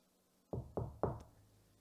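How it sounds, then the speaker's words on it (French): Three evenly spaced knocks land on a door, close and fairly soft, each with a brief hollow decay and quiet before and after. "le petit chaperon rouge qui, quelque temps après, vint heurter à la porte"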